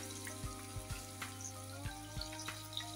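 Raw fish coated in raw mustard, for the Bengali dish foli mach er pur, fries slowly in a pan over medium heat, giving a soft steady sizzle with faint irregular pops and a low constant hum.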